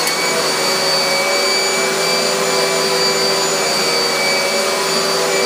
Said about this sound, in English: You can also use this 12 amp vacuum cleaner.